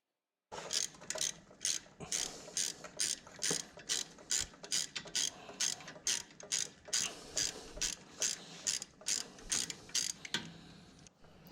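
A hand ratchet works loose the rear lower strut bolts on a 2007 Lexus ES350, giving off steady bursts of rapid clicking close by for about eleven seconds, with no speech.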